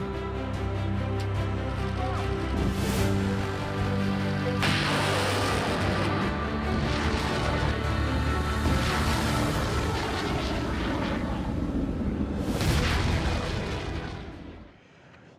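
Chunmoo multiple rocket launcher firing in a loud, sustained barrage of roaring rocket blasts and rumbling booms, with sharp bursts on each launch before the noise fades at the end.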